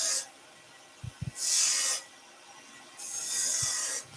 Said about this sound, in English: you can go in with your skew chisel to start with and increase the depth of those lines